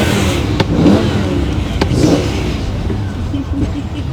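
A BMW M5 E60 with its V10 engine revs through the stock exhaust, a car engine rising and falling in a couple of throttle blips, moderately loud and fairly subdued in tone.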